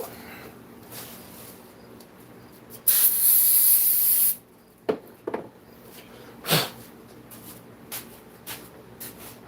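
Water spray hisses steadily for about a second and a half while something is rinsed out, loud and close, followed by scattered clunks and handling noises.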